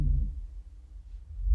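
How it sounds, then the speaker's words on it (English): A Chinese alligator call played back three octaves lower, a deep low rumbling bellow that swells, dips and swells again, alone with no talking. "So the team now choose to experiment with an alligator call."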